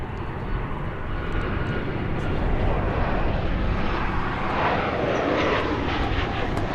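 American Airlines jet arriving from El Paso at Dallas Fort Worth airport, a continuous broad engine roar that swells slightly and holds steady, heard from a distance.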